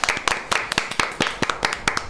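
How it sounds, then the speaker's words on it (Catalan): Brisk rhythmic clapping from a studio audience on a Catalan talk show, about a dozen sharp claps in a steady beat, fairly close and moderately loud, with no talking over it. "Un aplaudiment."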